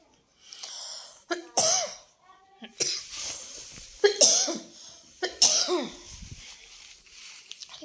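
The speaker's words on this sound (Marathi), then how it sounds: "खोकल्याने खूप जाम केला आहे इग्नोर करा त्या आवाजाला" Several harsh coughs come close together in bursts, loud and near, with brief gaps and throat-clearing between them, no talking.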